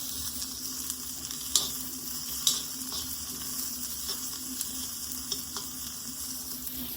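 Whole cinnamon and black pepper roasting with onion in a pan give a steady close sizzle, with a few sharp scrapes and clicks of stirring at intervals.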